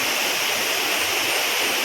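Areekal waterfall near Pampakuda, Muvattupuzha, pours down in a steady, dense roar of falling water, loud and unbroken, with no other sounds standing out.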